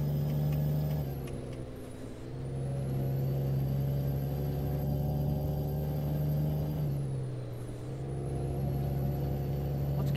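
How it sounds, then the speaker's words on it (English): A Kenworth T800 truck with a 710 horsepower engine cruising on the highway, a steady low engine drone and road roar with a strong constant hum, dipping slightly twice as the engine eases off. "we're in the Kenworth T800. It's we're running a 710 horsepower engine"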